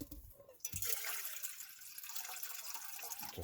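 Water splashes steadily into a cooking pot on a camp stove inside a hot tent during a late-winter overnight trip, starting abruptly and continuing as a close, even, rushing pour.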